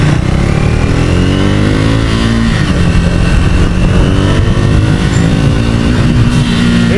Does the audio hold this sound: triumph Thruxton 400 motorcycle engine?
yes